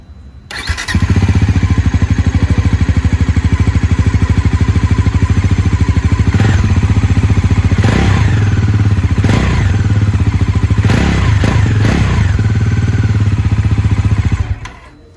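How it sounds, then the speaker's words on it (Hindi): A 2024 Bajaj Pulsar NS400Z with an underbelly exhaust starts and idles loudly up close, with a steady throbbing exhaust and several sharp revs before it cuts off. "तो एग्जॉस्ट का साउंड सुन लेते हैं"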